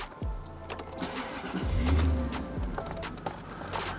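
A Jaguar XK8 engine cranks and catches, with several starter sweeps rising into a steady idle nearby, loud and alone without talk.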